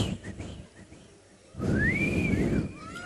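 A person whistles in imitation of a parrot, a rising and falling sliding whistle after a short pause, loud and close over a breathy background.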